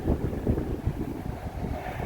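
Breeze buffeting the microphone outdoors, a steady low rumbling wind noise with gusty swells, heard alone without talk.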